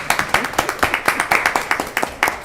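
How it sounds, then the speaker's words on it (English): Attendees at a county commissioners' work session clap in a steady, fairly quick rhythm, a small group nearby producing crisp, evenly spaced claps. "I see Commissioner Kiddo Jones clapping from the side of my eye, so let's give a clap."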